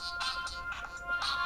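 A bright, tinny electronic ringtone from a HOMTOM HT7 PRO smartphone's small speaker, playing a quick repeating melodic pattern, close by and without any talking.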